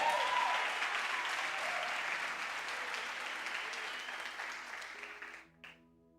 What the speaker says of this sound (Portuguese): Você pode glorificar e aplaudir a Ele nessa noite.